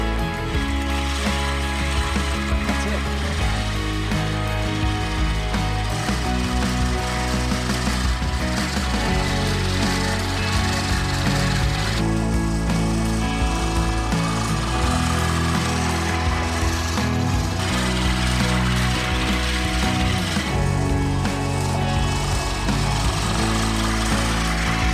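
A push lawn mower running steadily through a DIY lawn-care session, its engine drone loud and close with no break for the full stretch.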